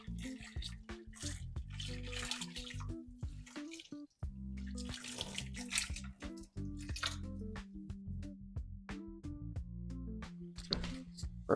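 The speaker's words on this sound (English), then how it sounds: "Just pour over boiling water over the hardscape, especially over the wood." Boiling water pours and splashes steadily over aquarium hardscape wood, with dripping and squishy gurgles, close and continuous with a brief pause midway.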